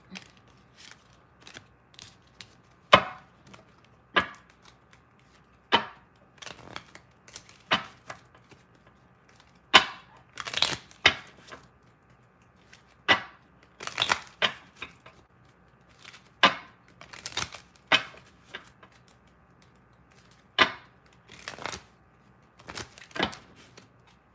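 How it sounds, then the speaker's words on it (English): Tarot cards are shuffled by hand in sharp, irregular riffles and taps, a couple of dozen separate crisp bursts with quiet gaps between, close and clear with no talking. "shuffle and put these cards to the side"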